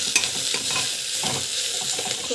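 Chopped kohlrabi sautéing in a pan: a bright, continuous sizzle up close, broken by soft scraping and tapping as it is stirred, with no talk.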